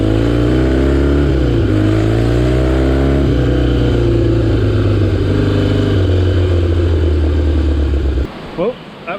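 A vintage Triumph motorcycle, a classic desert sled, revs and pulls loudly while being ridden hard off-road, its engine note rising and falling in surges before cutting out near the end.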